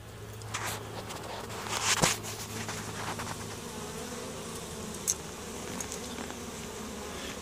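Honeybees buzz steadily around their hives at close range, a dense continuous drone with a few louder passes of bees flying near, and some faint rustling.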